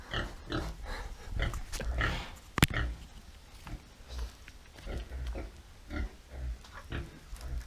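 Pigs grunt and oink nearby in a series of irregular short snorts and grunts, moderately loud, with a sharp clatter partway through.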